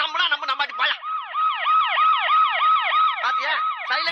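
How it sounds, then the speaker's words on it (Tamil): A wailing emergency siren rises and falls in a steady repeating sweep, loud and close, cut in between bursts of other tonal sound at the start and end. "சைலன்ஸா பேசுறதுக்கே சைரன் அலறுது பாரு"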